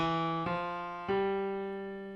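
A piano repeats a short Saints phrase, fingered 5-3-2-1, as a few clear sustained notes struck one after another, played alone with no talk.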